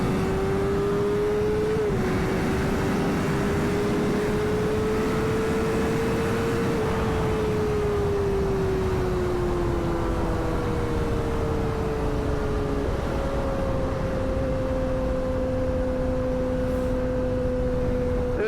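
A Yamaha R6 sport motorcycle being ridden, its high-revving engine droning loud and continuous, with pitch rising and dropping through gear shifts under heavy wind rush.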